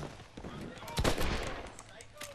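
Gunfire in the Red Dead video game: a single sharp shot stands out at moderate loudness over busy background game noise, with a faint voice-like murmur underneath.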